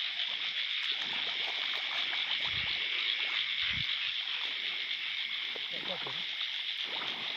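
Frogs call in a rice paddy as a dense, steady chorus of high trilling that fills the whole stretch. Faint voices murmur now and then in the background.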